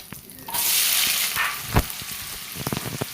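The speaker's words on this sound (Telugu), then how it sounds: "ఇదే ప్యాన్లో మనం కట్ చేసి పెట్టుకున్న ఉల్లిపాయల్ని వేసేసుకోండి" Chopped onions hit a hot pan and start frying in oil, a sudden loud sizzle that hisses steadily and slowly fades, with a few scraping stirs and clinks toward the end.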